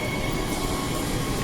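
Train rolling loudly and steadily past at close range as a Whitford service pulls into platform 1 at a station on Perth's Mandurah Line, broadband rumble with faint rail hiss and no voices.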